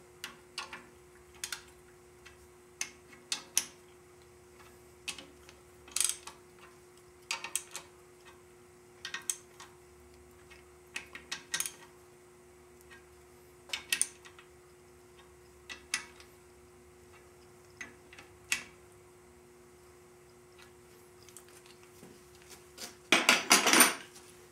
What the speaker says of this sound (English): Now I'll snug up these retaining bolts a little.